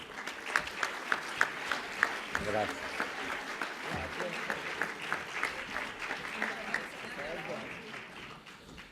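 Sustained audience applause at a corporate leasing convention award ceremony, dense and steady with sharper claps early on, while someone briefly speaks over it.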